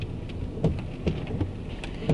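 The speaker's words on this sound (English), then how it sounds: "it's raining so bad" Heavy rain pounds a moving car during a downpour, a dense steady wash of drops on the roof and glass with a few louder thuds and sweeps, close and fairly loud throughout.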